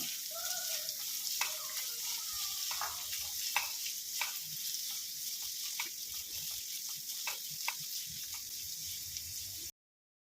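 A medium chopped onion fries in a pan for a Kerala-style okra and tomato curry, giving a constant close hiss of sizzling oil with light scattered clicks and taps on top.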